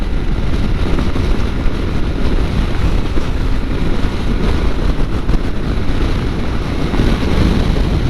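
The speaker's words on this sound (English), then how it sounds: "Whoa, that's a strong wind." Loud, constant wind roars and buffets against the microphone while riding a Yamaha Tenere 700 motorcycle on the freeway, a dense rushing noise with no letup, as if moving fast through open air.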